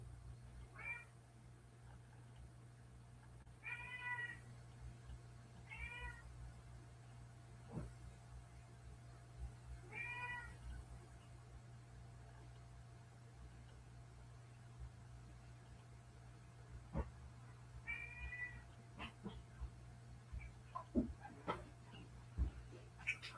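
A cat meows repeatedly while trying to get at a fish fillet, the calls coming in separate short bursts over a steady low hum, with occasional clicks and knocks nearby.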